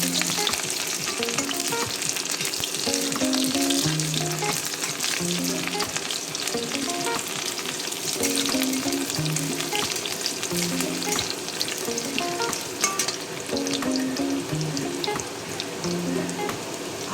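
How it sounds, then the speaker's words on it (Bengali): Onions sizzle and crackle steadily in hot oil in a home kitchen pan, a dense continuous frying hiss with occasional stirring sounds, and no talking. "তেল গরম হয়ে গিয়েছে, আমি এখন পেঁয়াজটা ছেড়ে দেব।"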